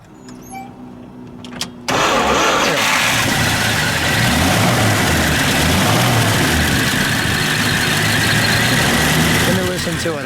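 A 1931 Studebaker President roadster engine cranks and catches after a short quiet spell, then settles into a loud, steady, throaty idle close by.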